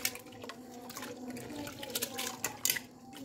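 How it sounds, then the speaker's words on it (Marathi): Top water being poured off soaked, washed wheat in a kitchen, a close splashing and trickling of water with light clinks from a metal vessel, rising in a few sharper bursts near the end. "आता मी हे पाणी वरचं काढून घेते."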